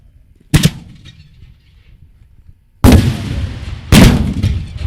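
Two 4-inch Lampari aerial shells fire one after another at an American-made fireworks festival display, each launch a loud, sharp mortar thump with a lingering roar; a faint earlier pop comes first, then the two close, powerful blasts.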